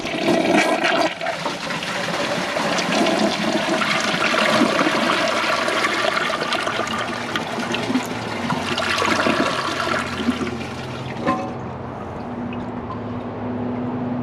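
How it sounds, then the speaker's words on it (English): A 2001 Kohler Highline Ingenium toilet flushes a load of latex gloves in one loud, rushing surge of water lasting about eleven seconds, then drops to a quieter trickle and tank refill hum. "Alright, let's give it a flush."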